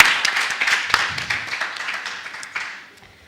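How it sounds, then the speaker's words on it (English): A short burst of applause from a small crowd at a panel discussion, clapping briefly before fading out. "Give a round of applause."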